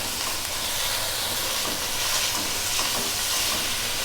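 Chicken strips cut lengthwise sizzle loudly in a pan for chow mein, with a continuous frying hiss and occasional soft scraping as they are stirred.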